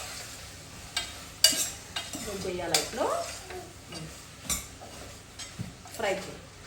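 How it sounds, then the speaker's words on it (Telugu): Tomatoes and cucumber are stirred and fried in a pan, with repeated clanks and scrapes of a utensil against metal over a soft sizzle, arriving in irregular bursts close by while a voice talks intermittently. "టమాటాస్ యాడ్ చేసాం కదా, ఫ్రై చేయి. ఇక్కడ ఫ్రై చేయి."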